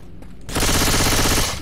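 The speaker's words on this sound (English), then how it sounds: "you can shoot them through here" Rapid automatic gunfire from Left 4 Dead 2 erupts abruptly after a quieter half-second, a loud dense stream of shots continuing to the end without speech.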